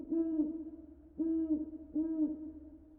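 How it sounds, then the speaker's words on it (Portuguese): An owl hoots three times at night, each call a steady low tone with a slight falling tail, spaced evenly and heard alone against a quiet backdrop. "a única coisa que se ouve é o pio da coruja"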